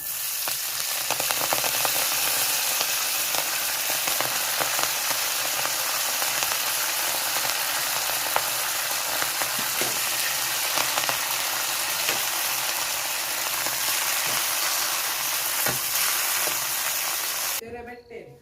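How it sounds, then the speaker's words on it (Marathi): Fenugreek leaves dropped into a pan of garlic and cumin tempering, a loud continuous sizzle with scattered clatter and scraping throughout, cutting off abruptly near the end. "तर बघा मस्त असे तळून घेतले आणि भाजी टाकते मी आता"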